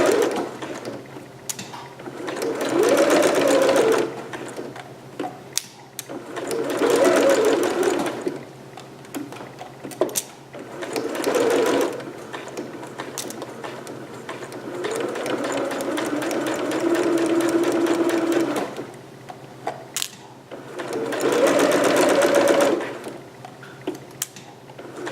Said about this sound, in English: stitching, back stitching, and then just continuing at 5/8